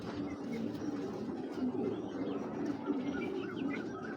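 Domestic pigeons at a pigeon sale coo in a low, steady murmur that runs through the whole stretch, with faint chirps and background bustle over it.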